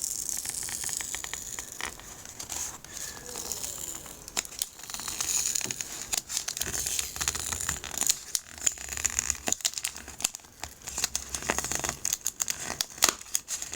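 A new brick of Bicycle playing cards is unwrapped, its plastic and paper crinkling, crackling and tearing in close, busy bursts that carry on steadily throughout.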